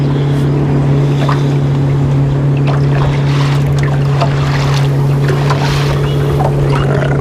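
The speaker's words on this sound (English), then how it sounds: "So I'm going to scoot the boat about 10 or 15 foot to the left here and just try a little deeper water." A fishing boat's motor hums steadily as it is nudged a short way into deeper trout water, a constant low drone with splashing water and wind over it.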